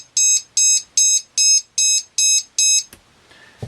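A Hobbymate 5-in-1 power distribution board for a quadcopter sounds its buzzer in seven loud, evenly spaced high-pitched beeps, each about a quarter second long. A faint click and a low thump follow after the beeps stop.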